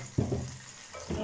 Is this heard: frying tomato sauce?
yes